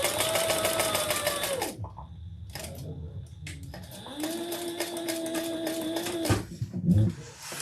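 A home sewing machine back stitches in short bursts, its motor whirring up and down with pitch shifts, a brief pause between runs and mechanical clicks near the end.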